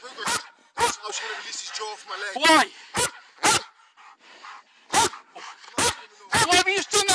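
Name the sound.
dog barking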